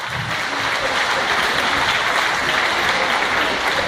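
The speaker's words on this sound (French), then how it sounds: "Faut l'applaudir très fort." Loud, dense applause from a crowd at an evening tent show for a martial-arts team in Vitrolles, steady and unbroken for the whole stretch.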